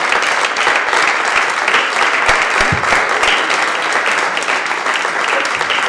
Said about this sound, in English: Clap for Pat. You clap for Pat.